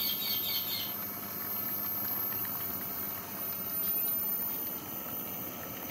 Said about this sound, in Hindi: ये आप देख सकते हैं गाइस किस तरीके से ये चूल्हा जल रहा है